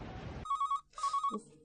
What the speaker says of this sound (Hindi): सारा दिन फोन बजता रहता है